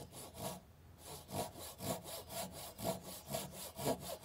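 A Japanese-style pull saw cuts through wood in steady back-and-forth strokes, about a dozen close, rasping passes at an even rhythm after a brief pause, with no talking.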